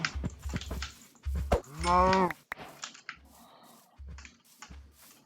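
A Minecraft cow gives one clear, drawn-out moo amid short bursts of game footstep and click sounds, close and moderately loud with no talking.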